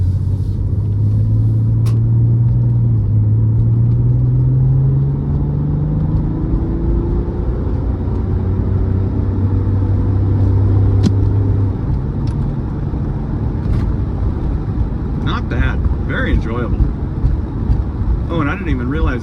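A 1997 Porsche 993 911 Cabriolet driving in automatic Tiptronic mode gives a steady, loud engine and road rumble with tone shifts as it changes gear, while people talk over it.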